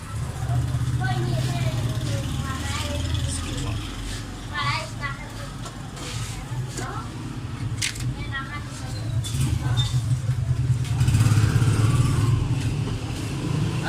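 Busy market street traffic rush, a steady rumble of motor vehicles and horns under close indoor talk, growing slightly louder toward the end.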